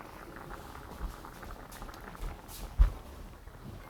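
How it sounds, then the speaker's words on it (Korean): Boneless gamjatang, a potato and pork-bone soup, bubbling in an uncovered pot at a steady soft boil, with gentle continuous burbling and a few louder pops. "이렇게 해서 지금 막 끓고 있죠?"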